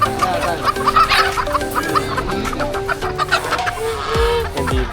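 Chickens, including bantams, cluck steadily and loudly at a busy open-air market in Calasiao, Pangasinan, with several birds calling over one another amid crowd murmur.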